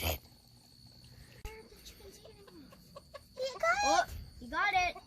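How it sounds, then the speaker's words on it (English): A rooster clucks as it eats a tomato hornworm in a garden, the calls coming in two short bursts near the end, close and fairly loud, over quiet outdoor background with insects. "Meet Big Daddy Rooster"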